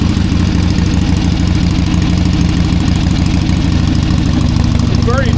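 Harley-Davidson Ironhead XLCH engine idling as it burns off degreaser residue, a loud, steady close-up rumble with even low pulsing throughout.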